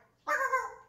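A single short, tonal bark from a dog, moderately loud and close, rising from near silence and fading within a second.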